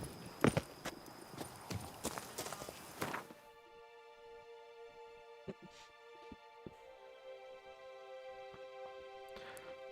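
The horse Roach's hooves clip-clop in quick uneven beats for a few seconds, then fade into quiet tonal game music with scattered soft thuds.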